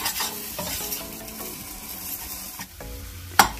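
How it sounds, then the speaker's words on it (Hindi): Chopped green coriander is mixed into zunka in a hot pan with a spoon, making a soft sizzle with scraping strokes and one sharp clink near the end, close by and with no talking. "इसी में हम मिक्स कर लेंगे धनिया को"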